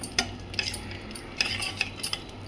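A spoon stirs coriander powder into simmering potato kurma, giving several light metallic clinks and scrapes against the pot at irregular intervals, close and fairly quiet.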